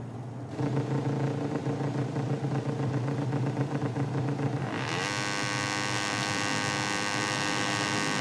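Several MotoGP motorcycle engines in the video game MotoGP 17 idle and rev together on the grid in Qatar, a steady droning buzz, then a higher, smoother whine as the revs climb.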